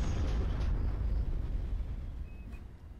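Missile bombardment in the AOTR Alpha video game rolls on as a heavy, low explosive rumble that slowly fades, leaving faint distant pops and crackle and no speech.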